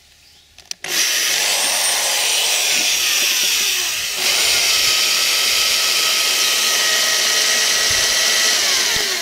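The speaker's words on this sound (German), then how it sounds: "Wir bohren jetzt mit einem Steinbohrer und ohne Schlag und noch möglichst mit langsamster Stufe." After a brief click, a drill with a masonry bit starts on its slowest setting without hammer action, grinding into a ceramic baking dish with a steady, loud, gritty whir that dips once then resumes.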